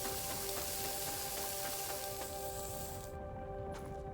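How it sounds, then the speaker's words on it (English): Steady hissing sizzle from an environmental hazard in the video game Grounded, a continuous moderate fizzing texture lasting throughout with faint tonal game music beneath. "Keep out of the sizzle."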